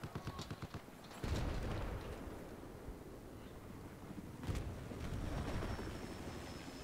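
Battlefield 4 gameplay with a tank, bombs and aircraft in play: gunfire rattles in rapid bursts, with a heavy explosive rumble and continuous battlefield noise filling the background.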